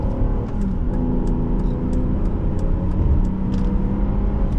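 A 2011 Volvo XC60 T6 AWD accelerates at half throttle, heard from inside the cabin as a steady engine drone and road roar. The sound is continuous and moderately loud, with a few faint ticks above it and no talking.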